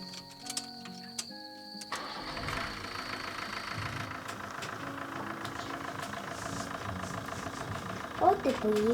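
A bus engine idles steadily throughout, a continuous low rumble with a faint ticking rhythm, heard in a village setting in Zakarpattia with some movement and brief clicks near the start.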